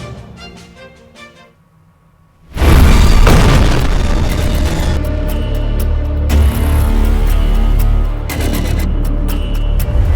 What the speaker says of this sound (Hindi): यूएई के जेबल अली एयरपोर्ट पर 20 मिनट में 7 धमाके।